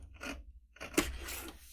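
Paper for a disc-bound notebook being trimmed with a cutter, giving a few soft, brief scraping and slicing strokes, quiet and close, with short pauses between.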